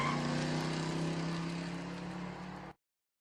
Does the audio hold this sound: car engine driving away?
yes